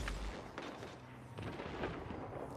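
Faint, quick bursts of gunfire from a weapon in Destiny 2, several separate shots spaced unevenly, as if the trigger is being pressed rapidly, with no talking.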